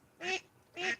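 Two distinct duck quacks by a pond, evenly spaced and fairly quiet, with brief silence between them.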